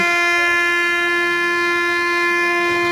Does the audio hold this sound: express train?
yes